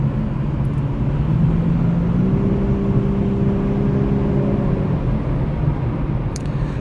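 A 2019 Lexus LC500h on the road gives a steady, loud cabin rumble with tyre and road roar, and a faint engine tone rises briefly in the middle.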